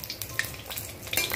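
Beguni, battered eggplant fritters, frying in hot oil over a high gas flame, a soft steady sizzle with light crackles and a faint stir, heard briefly and without talk.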